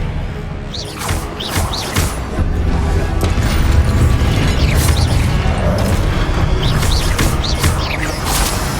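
Confringo fire spell blasts in Hogwarts Legacy, booming explosions over a rumbling battle bed with sharp cracks and whooshing spell sounds repeating through the clip, loud and close.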